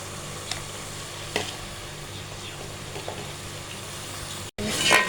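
Aloo matar with potatoes and peas frying in a pan, a steady close sizzle with occasional scraping stir strokes and a louder stir at the end, no talk.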